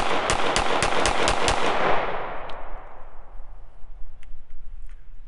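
A Hi-Point C9 pistol fires a loud, rapid string of about seven shots in quick succession, then the reports fade into a long, decaying echo and quiet background.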